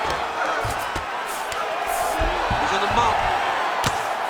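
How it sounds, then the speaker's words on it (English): Ground and pound strikes from Volkanovski against Chandler in EA UFC 5, with several dull thudding punches landing amid a roaring arena crowd while commentators talk over the action. "Big combination here of ground and pound strikes."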